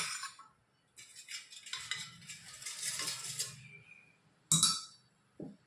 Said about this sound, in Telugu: ఇలాగా ఒక బౌల్ తీసుకొని దీంట్లో ఈ పెరుగు వేసుకోవాలి